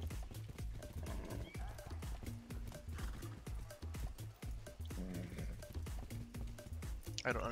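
Horse in the video game Far Cry 6 neighing and clip-clopping, with steady hoofbeats and whinnies mixed under game music and other effects, fairly quiet overall.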